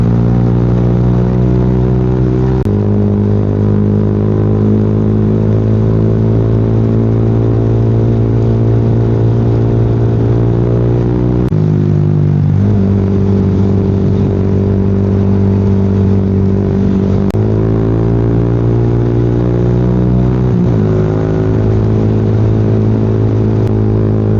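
A 2026 Yamaha Sniper 155 motorcycle engine drones loud and close in second gear, holding steady revs with a few brief dips and shifts in pitch as it is ridden.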